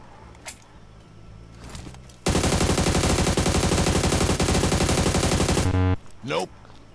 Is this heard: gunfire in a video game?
yes